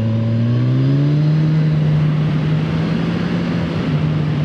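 A 2020 Kawasaki Ninja 1000 SX on Bridgestone S22 tyres, its engine pulling steadily upward in pitch under hard re-acceleration, loud and close, with wind roar and no talking.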